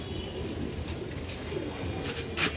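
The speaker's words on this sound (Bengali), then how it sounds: "এটা মাদি কবুতর" Low, soft cooing from a female racing pigeon sounds faintly and steadily close by, with light background noise.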